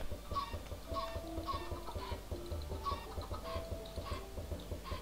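Quiet, repeated clucking of chickens on a chicken XP farm in a video game, with a soft electronic melody playing underneath, typical of game audio.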